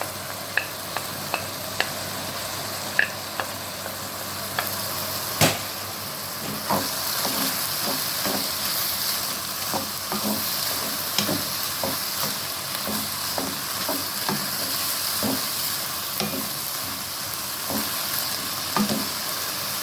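Meat fries with onion and garlic in a pan, a constant hissing sizzle broken by frequent sharp scrapes and taps of stirring, close and without talking.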